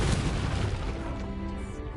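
A Confringo blast spell cast in the Hogwarts Legacy video game lands as a loud, booming fiery burst that fills the whole two seconds, heavy low rumble fading slightly toward the end, with no voices over it.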